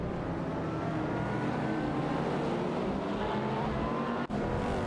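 Racing supercar engines roar in an AI-driven racing game at Fuji, a dense, steady drone of several cars at full throttle, broken by one brief dropout near the end.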